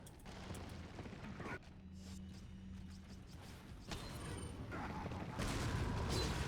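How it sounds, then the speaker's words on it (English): Grenade blast in Resident Evil 4 set off during gameplay, a broad low rumble surging near the end amid ongoing mechanical game noise and scattered clatter. "Right, grenade time."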